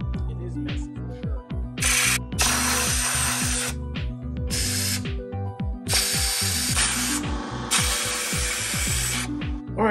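Aerosol carburetor cleaner sprays in several long hissing bursts onto the carburetors of a 1977 Honda CB750A Hondamatic motorcycle, with the can rattled and shaken between bursts and metallic clicks and handling noises throughout.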